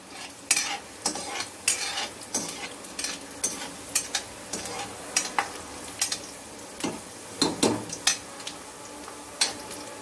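Ginger and cashews frying over a high flame in a pan for restaurant-style kadhai paneer, with a steady sizzle under repeated sharp stirring scrapes and clinks of a spoon against the pan, close and fairly loud, no talking.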